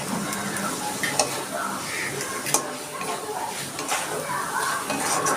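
Spice masala with turmeric, sugar and mustard oil fries in a pan with a steady, loud sizzle. The spoon scrapes and clinks against the pot every so often.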